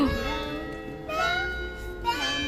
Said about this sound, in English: It's ding dong. It's been an hour, so it is now officially 2 o'clock